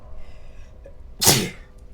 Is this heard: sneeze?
yes